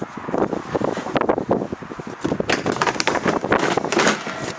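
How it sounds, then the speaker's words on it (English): Gusty wind buffeting the microphone, rough and continuous, rising and falling in strength for a few seconds. "it's windy. That was blowing."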